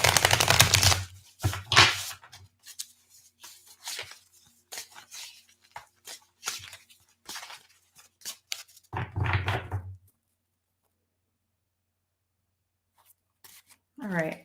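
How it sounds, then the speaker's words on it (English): A tarot card deck is shuffled in quick bursts of crisp riffling and card snaps, close up, with speech mixed in early on, then near silence before a brief voice at the end. "I'm going to really give my deck a shuffle"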